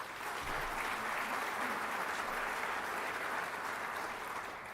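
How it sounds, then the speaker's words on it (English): An audience at a volunteer recognition awards ceremony gives a steady, full round of applause that holds evenly for the whole stretch, dense and fairly distant with no voices on top. "let's give him a round of applause anyway"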